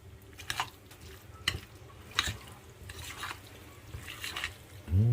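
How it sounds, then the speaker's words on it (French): A spoon works through a recipe mixture in a bowl, giving soft wet scrapes and sloshing strokes at an uneven rhythm, quiet and close, ending in a heavier clunk. "Et on va bien mélanger tout ça."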